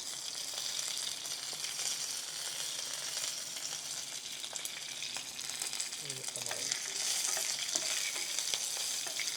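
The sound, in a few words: dried red chillies and curry leaves frying in oil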